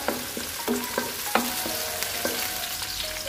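A papaya-flower stir-fry with green chilies and bird's-eye chilies is stirred in a pan, giving a series of clinking scrapes at an irregular pace over a constant close sizzle, with no talking.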